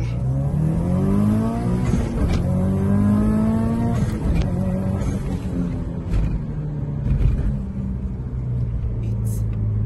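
A tuned car in Need for Speed Most Wanted, boosted to 29 PSI with about 390 horsepower, revs hard in a loud, close, rising pull before easing back to a rumbling idle.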